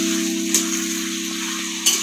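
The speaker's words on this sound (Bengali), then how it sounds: "আলুগুলো একটু ভেজে ভাজা ভাজা করে নিই" Salted potatoes fry in a pan for a vegetarian okra and potato dish, a close, continuous sizzle with a steady tonal hum and two brief louder bursts.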